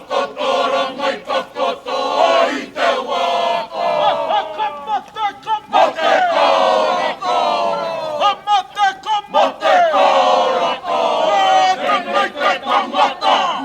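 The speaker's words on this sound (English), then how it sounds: "kind of capturing the entirety of the crowd and ambience performing up on this hill" A crowd performing together up on a hill at a Matariki First Light gathering, many voices rising in rhythmic chanted calls and shouts with short pauses between phrases, loud and close, filling the open air.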